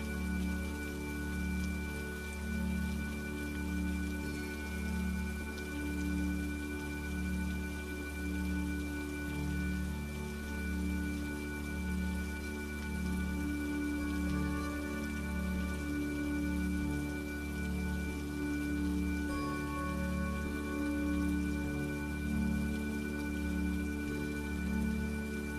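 Steady rainfall for a calming meditation, a continuous even wash of falling rain under a soft sustained background tone, with no talking over it.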